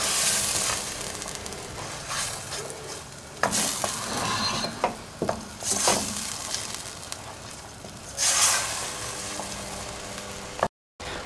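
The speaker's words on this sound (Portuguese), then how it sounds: "já deixamos aqui um bocadinho a fritar a cebola e o alho" Onion and garlic frying in a pan, a steady close sizzle broken by repeated scraping stirs of a utensil against the pan, ending in a brief cut of silence.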